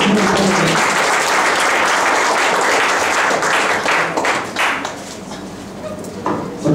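Audience applause at a lecture on stem cells in diabetes management, loud dense clapping that gradually thins and fades toward the end with a few scattered claps.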